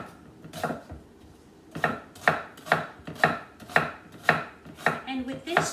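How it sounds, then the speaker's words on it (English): Onions chopped finely with a knife on a cutting board for butternut squash soup, a steady run of about ten crisp, close chops in quick rhythm after a short pause, with no talking. "we're going to cut it really fine in order for them to just dissolve into the soup"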